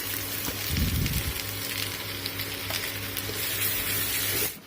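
Tomato and green chili paste sizzles as it hits a hot frying pan, a steady close frying hiss that holds throughout before cutting off near the end.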